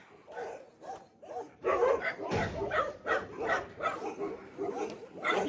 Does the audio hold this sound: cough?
no